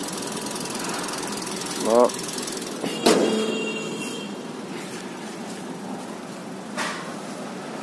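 Engine of a late-2018 Toyota Vios sedan idles at a steady, quiet hum, with a couple of brief squeaks and a soft knock, while someone talks over it.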